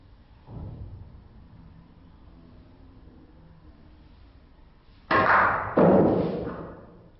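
Snooker balls on a table during a stun shot played from the baulk cushion: a soft early thud, then two loud, sharp clacks in quick succession near the end, each ringing out briefly, close and with no talking.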